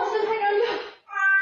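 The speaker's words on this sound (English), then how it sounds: "This woman caught her cat hanging from the garage." A cat hanging from a garage gives a loud, close, drawn-out distressed meow, a brief pause, then a second strained yowl.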